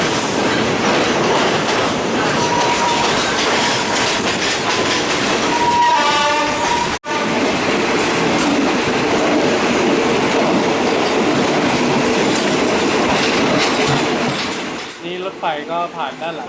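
A Thonburi–Nam Tok line train rumbles steadily along the tracks, loud and close, with a brief horn-like tone partway through before the noise fades at the end.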